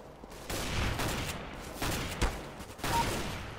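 Counter-Strike: Global Offensive gunfire comes as a few rapid bursts of shots with short gaps between them, fairly close and moderately loud, with no talking.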